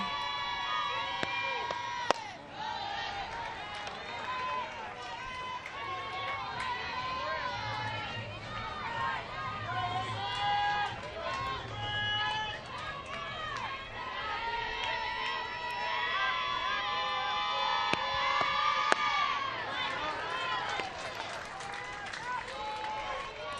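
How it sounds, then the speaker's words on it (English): Shouts and chatter come from the Nebraska dugout during a college softball game against Grand Canyon, a steady crowd murmur with scattered higher calls, moderately distant and fairly quiet over the whole stretch. "you hear the shouts from the Nebraska dugout"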